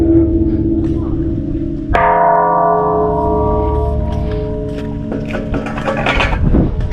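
A Buddhist temple bell or gong at a temple in Chainat, Thailand, struck once, a loud metallic clang followed by a long ringing hum that fades slowly, with faint background voices and movement nearby.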